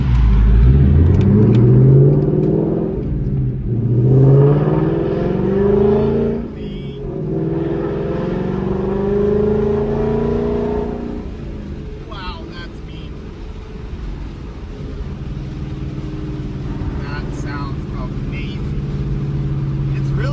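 A 2021 Mustang GT with a Borla ATAK exhaust revs and accelerates, pitch climbing and falling through gear changes, then settles into a steady drone with wind noise from open windows while driving.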